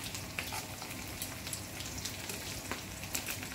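Dried fish fries in oil with a steady, dense crackle and sizzle, faint but continuous, with scattered small pops and no voices.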